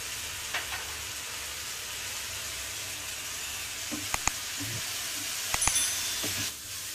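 Bachali leaves frying in oil for tomato pachadi as turmeric goes in: a steady, soft hiss of sizzling fills the pan, broken by a few sharp clicks of stirring near the end.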